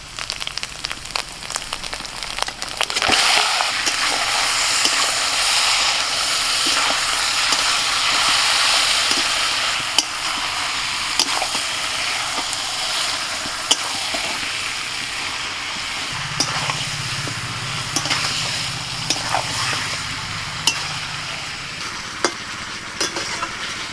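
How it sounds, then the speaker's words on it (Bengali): Marinated meat frying with ginger-garlic paste in a wok sizzles and hisses continuously while a spoon stirs and scrapes it in sharp intermittent clicks, close and fairly loud, with no speech. "আদা রসুন ভাজা হয়ে গেলে এবার ম্যারিনেট করা মাংসটা দিয়ে দিচ্ছি।"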